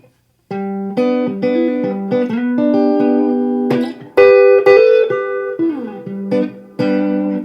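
Clean chords on a D'Angelico Deluxe SS electric guitar ring out one after another as triads, some strummed and some sliding between shapes, played alone and fairly loud.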